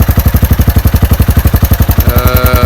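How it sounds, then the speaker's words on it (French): A Suzuki Marauder motorcycle engine runs loud and close, its rapid even firing pulses thumping in a steady rhythm with mechanical clatter on top. "Pour une moto qui démarrait pas, et ben elle démarre."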